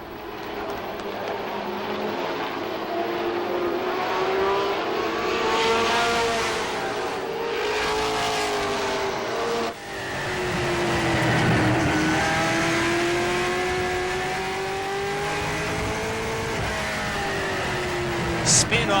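Pro stock car engines roar continuously during heat races at Lee USA Speedway in 1993, their pitch rising and falling as the cars accelerate and sweep past.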